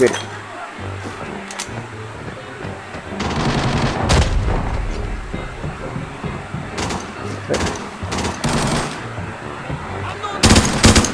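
Bots trading gunfire in the shooter game Arena Breakout on a TV station map, bursts of rapid automatic shots and single cracks at mid distance, some sharp and loud, over a player talking.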